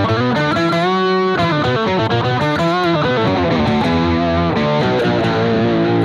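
Distorted electric guitar running through a Hotone Octa octave pedal, a dense, gritty riff with sustained notes and chord stabs played continuously at high volume, close and without speech.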